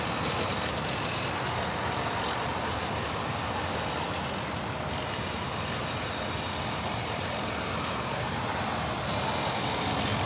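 A Boeing 787-8 Dreamliner at LAX produces a dense, unbroken engine roar that stays loud and even for the whole stretch, a constant wash of rumble and hiss with no speech.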